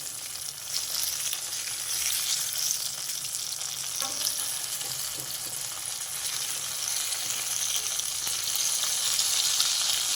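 Stuffed brinjal (eggplant) with gram-flour filling cooking in oil in a pan, a steady dense sizzle and crackle that runs unbroken and close, with a faint stir or two and no voices.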